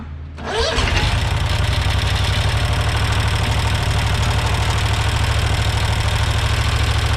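A small engine on a rebuilt machine fires up after reassembly and governor adjustment, then settles into a steady, loud, continuous run with a rapid even pulse.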